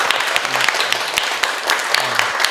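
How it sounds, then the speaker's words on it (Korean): Applause from an audience at an elementary school in Gumi, thanking a city mayor on his visit; a short burst of steady clapping with some voices mixed in. "감사의 뜻으로 다 같이 시장님께 큰 박수 부탁드리겠습니다."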